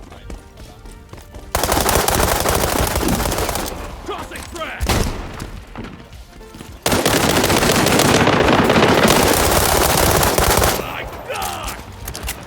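Gunfire in the video game World War 3, long bursts of rapid automatic fire with booming shots, loud and dense, broken by short quieter gaps between bursts.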